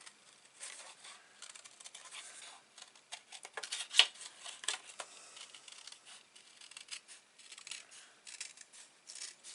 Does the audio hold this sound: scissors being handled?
yes